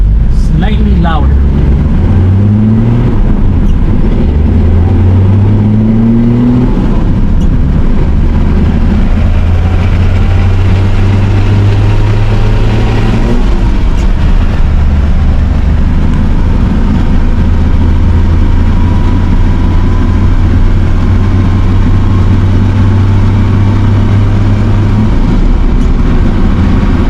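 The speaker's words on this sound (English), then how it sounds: "Next issue is the rear wheel bearings. As you can hear them, they're making a lot of noise." A Land Cruiser drives along with worn, noisy rear wheel bearings, giving a loud, continuous low droning hum that rises and falls in pitch with speed, over steady engine and road noise.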